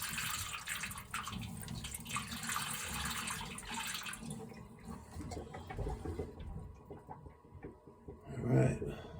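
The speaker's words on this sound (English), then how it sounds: "And let's pour water down." Water is poured down the elbow of a Burnham Alpine boiler, running and splashing steadily at moderate volume, then thinning out before a brief louder gurgle near the end.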